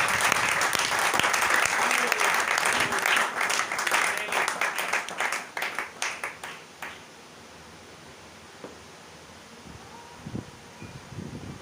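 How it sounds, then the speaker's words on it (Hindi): A church congregation claps loudly together for several seconds, the applause thinning into scattered claps and then fading into quiet room noise. "खुदावंद के लिए तालियां हो जाए"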